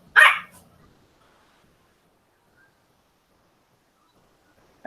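A single sharp bark from a puppy right at the start, followed by near silence and the faint onset of another sound at the very end.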